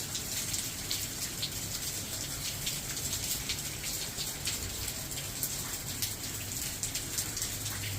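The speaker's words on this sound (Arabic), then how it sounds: "شاهدوا المطر ما شاء الله تبارك الله" Steady rain falls in Tucson, Arizona, a dense even hiss of drops with scattered patters striking surfaces, continuous and fairly close throughout with no voices.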